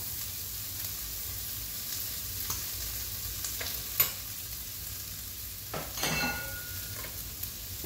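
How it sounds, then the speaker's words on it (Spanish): Chopped onion fries in butter in a pan that still holds the mushroom cooking juices, giving a soft steady sizzle with a few faint clicks and scrapes of stirring. "en el mismo fondo de cocción de los hongos ponemos la cebolla con el resto de la manteca"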